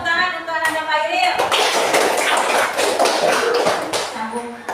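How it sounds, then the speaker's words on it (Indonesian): A group in a classroom clapping for a child, a short burst of brisk, dense applause that starts after a moment of voices and fades out near the end. "tepuk tangan untuk anak Khairil"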